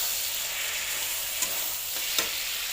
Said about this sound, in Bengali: মশলাটা ভাজা হয়ে গেছে, এখন মটনটা দিয়ে দেবো।